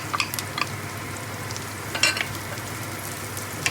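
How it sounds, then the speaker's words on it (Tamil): Small onions frying in hot oil in a pan for a crab curry, a steady continuous sizzle with faint scattered pops and light stirring scrapes, no speech. "சின்ன வெங்காயத்தை போடுறேன்."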